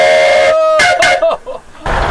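A steam engine whistle gives a short, loud hoot, a bright clear tone broken into a couple of quick blasts with brief gaps, heard up close outdoors.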